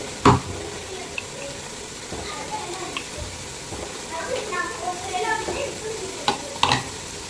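Ground shallot paste for chicken biryani sizzles faintly in a pot while a spoon stirs and scrapes it, with a few sharp knocks and some water noise in the background.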